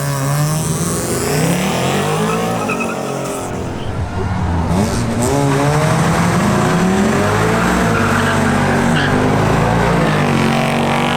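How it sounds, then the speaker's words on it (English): A new Ford Mustang GT accelerates hard on a qualifying run at a drag race, a loud, sustained engine roar with rising revs and gear changes, close and continuous throughout, with voices faintly underneath. "Now it's Luis Velez's turn in his new Ford Mustang GT"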